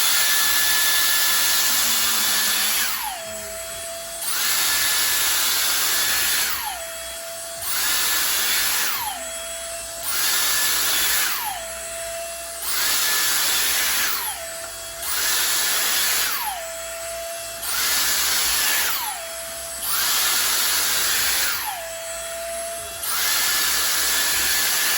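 A Dyson Airstrait hair straightener blows hot air on its wet setting, a loud high whine that cycles on and off about eight times, each pass ending in a falling pitch. It runs alone with no talk.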